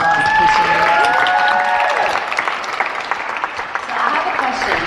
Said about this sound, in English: if y'all would give them another round of applause